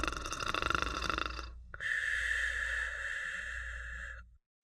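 A storyteller's voice imitates a bear snoring, giving a rough, raspy inhaled snort followed by a longer, smoother droning exhale, close and fairly quiet, then silence.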